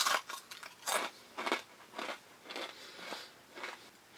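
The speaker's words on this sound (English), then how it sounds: "I don't taste the squid much, but it's got a really good crunch that way." Crisp crunching as someone bites and chews a squid tempura snack fried slightly too long, repeated crackly bites at a steady pace, close to the listener.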